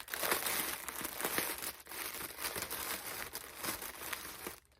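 Plastic packaging around a mystery yarn bag crinkles and rustles as it is handled and opened, a close, busy run of crackling bursts that carries on for several seconds with no talking.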